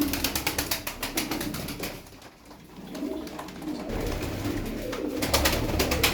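Tumbler pigeons coo softly in low, repeated throaty calls, with rapid wing flaps fluttering at the start and end.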